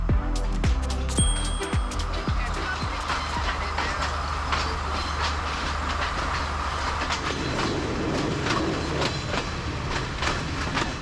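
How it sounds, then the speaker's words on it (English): The Udarata Menike passenger train rumbles along the rails between Kandy and Ella with steady rolling noise and occasional clacks and squeals, loud and continuous throughout. "This is the return working of the train we're currently riding"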